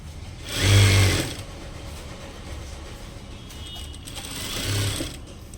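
A sewing machine runs a dummy stitch on a blouse before piping is attached. There is a loud, close whirring burst of rapid stitching, then a quiet pause, then a second, shorter and softer run near the end.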